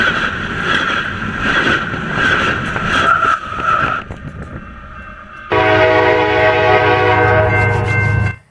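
A BNSF coal train on the Beardstown Subdivision at Girard, Illinois, sounds its horn in loud sustained blasts, then rumbles past close by with heavy rolling noise that cuts off abruptly.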